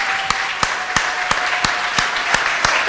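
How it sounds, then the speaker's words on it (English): Sparse, evenly spaced claps ring out over a steady broadband crowd wash as a lecture audience rises in a standing ovation, the individual hand strikes standing out at a regular rhythm. "Standing ovation."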